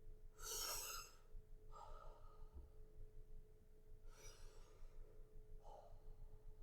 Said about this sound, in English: What is that I'm breathing in and out?